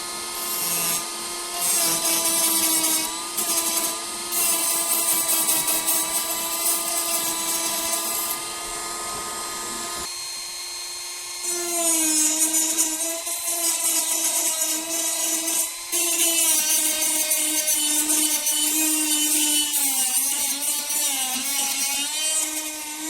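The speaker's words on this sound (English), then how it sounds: "We're going to use my grinder tool, but with a piece of sandpaper on it" Rotary grinder tool fitted with sandpaper sanding down sharp metal staples set in plastic, a loud, high whining buzz that runs continuously with slight pitch shifts and a brief drop in intensity partway through.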